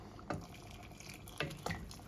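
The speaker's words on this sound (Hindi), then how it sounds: "मैं इसको बिल्कुल उबलते हुए पानी को इसमें डाल रही हूँ" Boiling water from an electric kettle poured into a pot of aloo gosht, heard as quiet liquid splashing and a few soft drips over a low, steady background.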